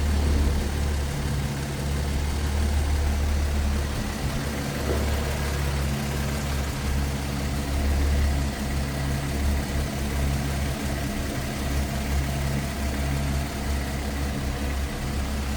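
Smooth, steady idle of a 1954 Plymouth Plaza 2-door club sedan's inline six-cylinder engine with a 6-volt system, a continuous low rumble held close and even for the whole stretch, with no talking.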